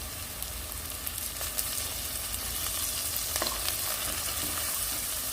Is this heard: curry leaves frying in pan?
yes